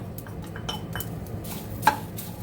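Peeled garlic cloves and curry leaves going into a hot pan for garlic chutney powder, with soft scrapes and light metallic clinks of a spatula stirring, one sharper clink near the end, no talking.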